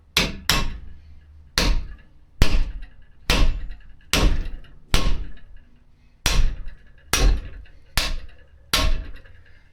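A hammer strikes a metal bushing in a 240 subframe about a dozen times in a steady rhythm, each blow a loud, close, sharp bang with short ringing decay.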